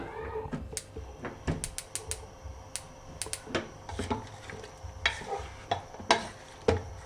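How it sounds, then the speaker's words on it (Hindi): Chicken karahi with garlic ginger paste and water is stirred in a pot, producing irregular scraping and clinking strokes with a soft wet sizzle underneath, fairly quiet and close. "इसे अच्छी तरह से मिक्स करेंगे।"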